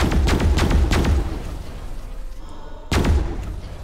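Spaceship weapons firing in Pulsar: Lost Colony: a rapid volley of punchy thumping shots over a low hum, a quieter lull, then another abrupt burst of fire.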